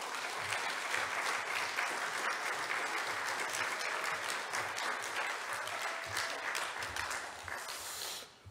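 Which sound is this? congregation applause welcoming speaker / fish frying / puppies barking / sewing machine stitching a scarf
congregation applause welcoming speaker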